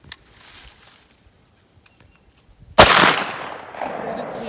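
A 16 gauge shotgun loaded with a .600 caliber roundball fires once at a range: a single sharp, loud blast that rings out and fades, following a few seconds of near silence with faint faraway sounds.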